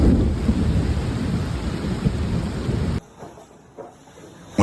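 Loud, steady roar of heavy rain with rumbling thunder for about three seconds, then it drops abruptly to a quiet background with a few soft knocks.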